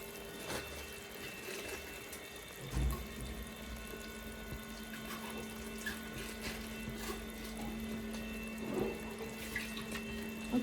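Water runs steadily from a tap to rinse a blender holding tomato, ginger and garlic, a continuous soft splashing stream with a few faint clinks, and no talking.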